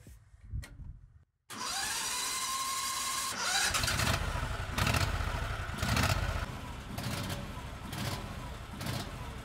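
Dobrinya tracked ATV engine cranking briefly, then catching and settling into a loud, steady running note with repeated rises in revs, heard up close with no one talking.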